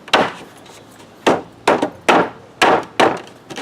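Wooden boards of a swing set being knocked together and pushed into place, six sharp separate wooden thumps at irregular intervals, close and loud, no talk.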